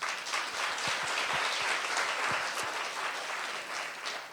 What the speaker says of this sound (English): I'd like you to give a clap for all those people right now